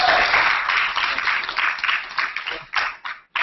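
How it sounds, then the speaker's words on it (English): Audience applause at a chamber of commerce event, a round of clapping from a room of listeners that is dense at first, then thins into scattered claps before stopping. "I know that we can give Jennifer a bigger round of applause than that."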